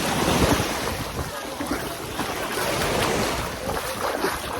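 Waves wash onto a white sand beach in Misamis Occidental as a steady, loud rush of surf, mixed with heavy wind buffeting the microphone.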